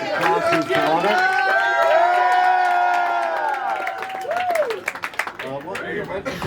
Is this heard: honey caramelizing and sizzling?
no